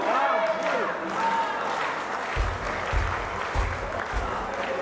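Wedding guests at an Armenian wedding celebration applaud in a crowded hall, the clapping rising under loud music and chatter and swelling in bursts toward the end.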